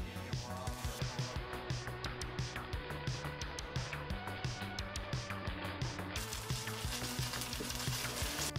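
French toast with sugar on top frying and caramelizing in a pan, a dense continuous sizzle under a steady rhythmic backing beat.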